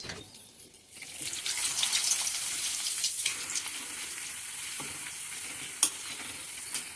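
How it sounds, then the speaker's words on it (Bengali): A papad frying in hot oil, with a loud, dense crackling sizzle that starts after a quiet second and carries on steadily, with one sharp click near the end. "একটা পাঁপড় ভাজি করে নিই"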